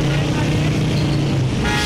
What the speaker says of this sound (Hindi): शोर की सबसे बड़ी वजह बेहंगम ट्रैफिक है।